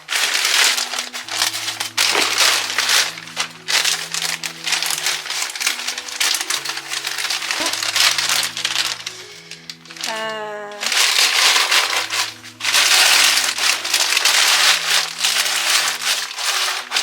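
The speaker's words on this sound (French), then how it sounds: "je vais couper ce morceau de bâche" A plastic tarp is cut and handled in a ceramics workshop, giving continuous close crinkling and rustling across the whole stretch with a brief gap in the middle, over steady low tones in the background.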